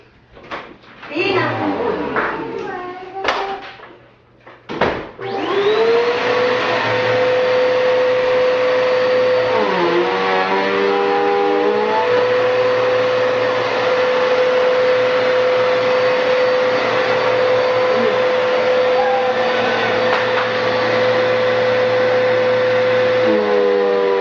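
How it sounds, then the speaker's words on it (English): A child runs a household vacuum cleaner across a floor at home, a steady close whine with a pitch that dips and shifts as the nozzle moves, after brief adult and child speech at the start. "Show me how you vacuum the middle."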